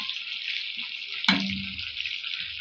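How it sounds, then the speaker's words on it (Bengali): Chicken fries in a pan with salt, turmeric and chili, a steady bright sizzle throughout, interrupted by one short clatter of stirring midway. "এখানে আমি চিকেনটা লাল লাল করে ভেজে নিচ্ছি।"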